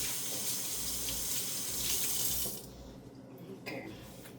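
A kitchen tap runs steadily, rinsing food under the stream for a couple of seconds, then shuts off, leaving quieter drips and faint handling sounds.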